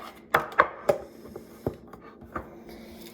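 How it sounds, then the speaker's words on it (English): Celery being chopped with a knife on a cutting board, a handful of crisp, irregular cuts, close and clear, spaced out with short quiet gaps and no talking. "I just cut up some of my celery"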